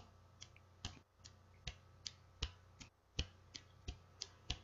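Slow, evenly spaced finger snaps, roughly two per second, ring out crisply over a quiet low hum, imitating the first drops of rain beginning to fall.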